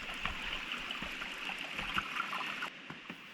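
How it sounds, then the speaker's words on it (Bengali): A stream runs beside a forest trail near Kausani, Uttarakhand, a soft, even rushing and trickling that holds steady throughout at low level. "জঙ্গলের মধ্যে পাশ দিয়ে বয়ে চলা জলের শব্দ"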